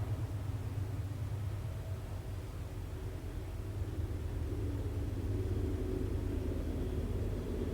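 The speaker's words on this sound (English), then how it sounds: "Car going by." A car passing outside a farmhouse at night, heard as a steady low rumble that swells slightly toward the end, distant and continuous with no voices.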